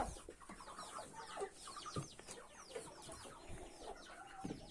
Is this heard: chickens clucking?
yes